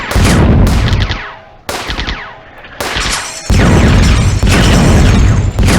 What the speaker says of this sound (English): Still looking for where that gunfire is coming from